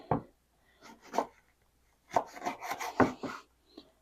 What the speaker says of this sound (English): you can cut an extra lemon if you have one. Cut some slices.